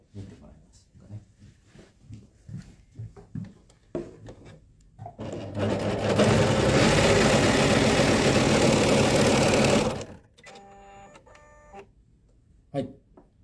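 A JUKI Akane MO-3000QVP serger runs in a loud, steady mechanical whir for about four seconds while its built-in cutter trims the thread chain, framed by talking before and after.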